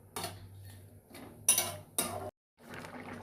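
A cooking pot with a banana flower and prawn curry being stirred and then covered with a lid, a few metallic scrapes and clinks of utensil against pan, closing with a sharp clatter before a brief silence.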